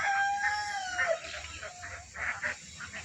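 On a poultry farm keeping Sonali rooster chicks and speckled hens, a rooster crows once up front, followed by scattered clucks and calls from other fowl at moderate distance.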